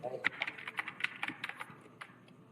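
Typing on a computer keyboard, a quick run of close, crisp keystrokes with a faint voice underneath.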